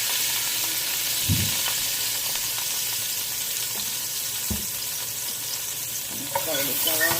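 Garlic and ginger sizzling in olive oil in a frying pan for Jamaican-style curry chicken feet, a steady close crackling hiss with a couple of dull spoon knocks.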